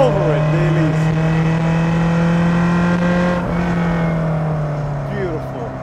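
A Lotus Elise sports car accelerates with a strong, steady engine drone that rises slightly in pitch and then eases off, loud and close throughout, with no one speaking over it.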